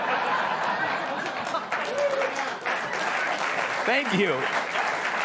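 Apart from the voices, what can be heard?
studio audience applauding a swear word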